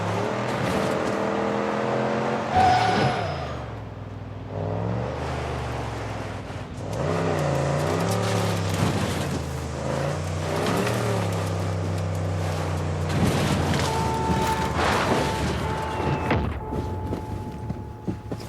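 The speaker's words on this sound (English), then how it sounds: "This is a very fast little truck." A fast little truck in Far Cry 6 drives along with a continuous engine drone that rises and falls in pitch through gear shifts and revs, loud and close throughout, with no talking.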